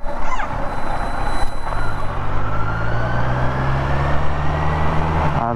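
A vehicle engine idling loudly up close with a steady low rumble whose pitch slowly sinks as the RPM drops, over constant broadband road and engine noise.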